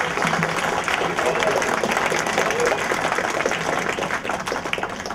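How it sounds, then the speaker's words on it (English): Applause from a crowd at a cotillion and graduation party fills the room steadily and loudly from start to finish, with voices chattering underneath. "please give yourself a round of applause"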